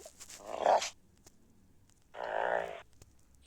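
A dog gives two separate barks with a pause between them, fairly close in an otherwise quiet space.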